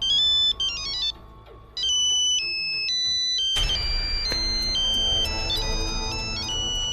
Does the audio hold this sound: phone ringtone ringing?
yes